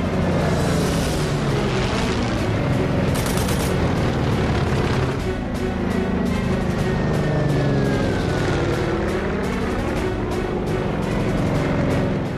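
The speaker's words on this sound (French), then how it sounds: "Il vise et tire une première rafale." Aircraft cannons fire a burst in a World War II air combat scene, loud rapid booming shots layered over a constant roaring engine drone that fills the whole stretch.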